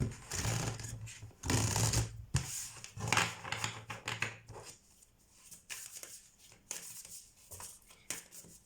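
Soft riffling and slapping of tarot cards being shuffled repeatedly up close, quiet and continuous with no voices.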